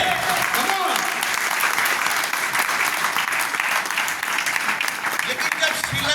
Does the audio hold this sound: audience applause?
yes